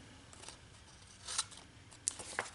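Scissors trimming the flap of a handmade Christmas card envelope, a few faint quick snips and paper cuts close by in a quiet room.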